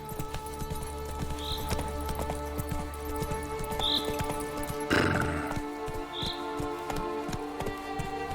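Roach, the horse from The Witcher 3, gallops with rapid clip-clop hoofbeats, snorting and whinnying over a busy game background, with a brief louder burst partway through.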